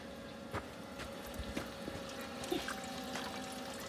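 Dirty rinse water pours steadily from a 12 volt wringer washer during its last rinse cycle, a continuous close splashing trickle with a few louder knocks and splashes along the way.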